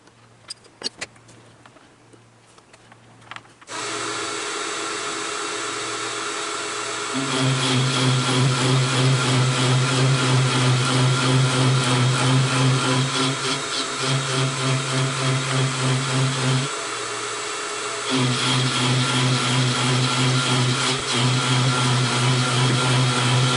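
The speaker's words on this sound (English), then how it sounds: "Probably the belt grinder." Belt grinder shaping a metal caster part: the motor whirs up, then a steady loud grinding roar holds with a brief dip midway before resuming, continuous and close.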